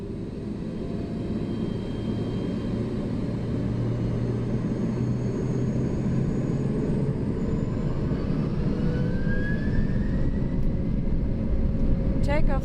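Lufthansa Cargo McDonnell Douglas MD-11 jet engines spooling to takeoff thrust, heard from the cockpit on runway 27: a loud, steady broadband roar that builds slightly over the clip, with a rising whine near the end and faint cockpit voices beneath.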